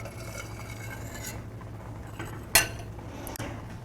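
Metal spoon skimming foam off small-batch strawberry jam in a pot, faint scraping and stirring capped by one sharp clink against the rim and a softer tap later, over a low kitchen hum.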